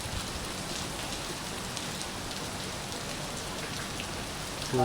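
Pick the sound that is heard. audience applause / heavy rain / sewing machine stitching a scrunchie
heavy rain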